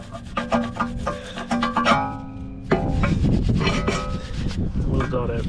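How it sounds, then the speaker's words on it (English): A wire brush scrubs rust off the rear brake parts of a 2018-2024 Toyota Camry: quick rhythmic rasping strokes up close, then a denser stretch of continuous scraping. "Next up, wire brush."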